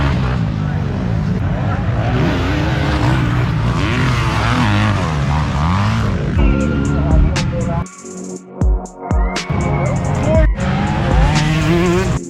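Race cars roar past on track as a race starts, a loud layered engine drone with rising and falling pitch that thins out into scattered passes; someone talks over part of it.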